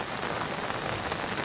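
Heavy unseasonal rain pours down in a dense, steady hiss of drops drumming on surfaces, loud and continuous with no breaks.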